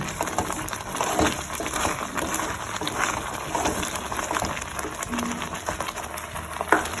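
Dry prawn chutney masala frying in a pan gives a steady close crackling sizzle, with scraping and stirring noises throughout and no talking.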